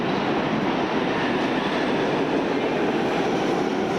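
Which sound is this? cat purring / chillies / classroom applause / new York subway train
new York subway train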